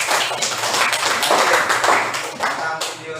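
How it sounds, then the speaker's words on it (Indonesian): Class participants in an Indonesian teacher-training session clap their hands together, a close, moderately loud run of claps with uneven rhythm, briefly mixed with a voice. "Tepuk tangan dulu."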